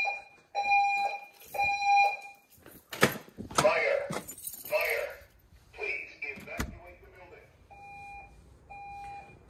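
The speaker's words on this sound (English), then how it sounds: "I know it's fire, not intrusion alarm" A security system's fire alarm sounds in repeated two-tone beeping bursts inside a generator building, loud and steady, with clattering and banging noises and some voices in the middle.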